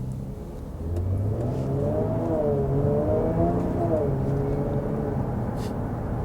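A Jaguar F-Type sports car engine revs steadily nearby, its pitch rising and falling in a smooth throaty drone that fills the whole stretch.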